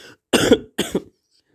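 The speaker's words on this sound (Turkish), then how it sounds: "Kusura bakmayın arkadaşlar öksürdüm." Two harsh coughs in quick succession, close and loud, separated by a short pause, with quiet surroundings before and after.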